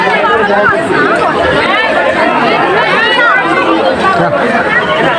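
Dense crowd chatter at Mirpur National Zoo in Bangladesh, many overlapping voices babbling continuously and loudly close by, with no single speaker standing out.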